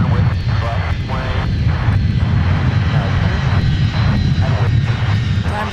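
A former Northwest red-tail Boeing 757-300 airliner taxis past at Minneapolis–St. Paul airport, a steady loud broadband jet engine roar throughout, with talk over it.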